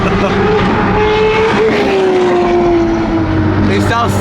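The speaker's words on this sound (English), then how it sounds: "That's have to be the loudest cars I've ever heard of." Loud sports cars, including a LaFerrari, rev and roar at a car meet, with engine tones rising and falling steadily under a constant wash of crowd noise and talk.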